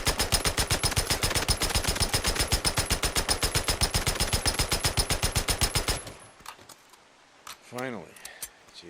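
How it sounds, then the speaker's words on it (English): A US556 M4 carbine rifle fires full auto in Days Gone, a long sustained burst of evenly spaced sharp shots lasting about six seconds, then stopping abruptly into quieter clicks and a short voiced sound. "that's 50 rounds rapid fire"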